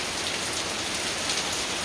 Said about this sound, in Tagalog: ito ang lakas ng ulan dito sa amin